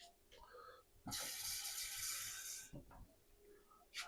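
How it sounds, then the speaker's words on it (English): Water poured from a tap into the bottom of an Instant Pot in one steady splashing stream of about a second and a half, close by, with soft handling noises around it. "I'm going to add a little water down in the bottom of my Instapot."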